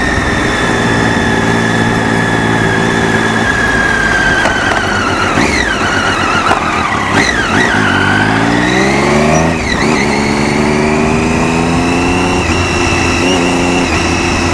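A Triumph Daytona 675 sports motorcycle engine revs hard and loud nearby, rising and falling in pitch through repeated throttle blips and sweeps over a steady idle, with no speech over it.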